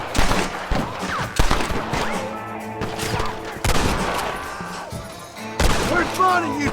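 A gunfight in the Red Dead Redemption video game: repeated bursts of gunfire and sharp crashing shots come in uneven clusters, with voices shouting between the volleys.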